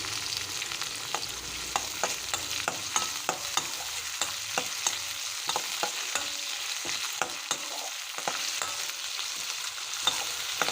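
Onions and mint paste fry and sizzle in a pan for kurma, with repeated sharp clicks and scrapes of a spoon stirring throughout, steady and close.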